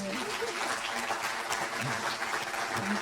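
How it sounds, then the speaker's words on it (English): An audience applauds a speaker's mother at a leadership talk, a steady, moderately loud wash of clapping mixed with some indistinct crowd voices and talk throughout. "Does your mom deserve a round of applause?"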